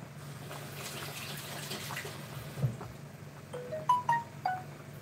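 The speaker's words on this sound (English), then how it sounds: "Just going to wash my hands." Tap water runs into a kitchen sink during hands being washed mid-cooking for a fish pie, a soft steady splash for several seconds, then brief clinks and taps of handling toward the end.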